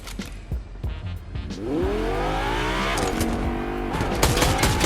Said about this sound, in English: I shoot up his car.